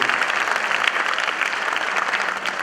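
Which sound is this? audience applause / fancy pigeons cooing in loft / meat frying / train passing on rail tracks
audience applause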